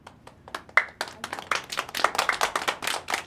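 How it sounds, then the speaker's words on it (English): Children in a classroom break into scattered, uneven clapping after a shared reading. The claps come as sharp, irregular bursts that build and overlap toward the end, with no clear talk over them. "You don't have to clap."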